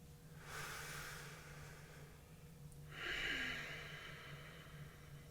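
Slow, deep breaths during a seated yoga twist: a long airy inhale and a fuller, louder exhale with a soft hiss, close and without talk, over a low steady hum.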